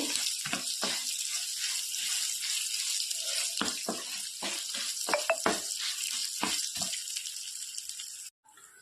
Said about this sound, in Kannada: ಎಣ್ಣೆಯಲ್ಲಿ ಒಳ್ಳೆ ರೀತಿ ಫ್ರೈ ಮಾಡಿ ತಗೊಳ್ಬೇಕೀಗ ಎಲ್ಲ ಎಣ್ಣೆಯಲ್ಲಿ ಫ್ರೈ ಆಗಲಿ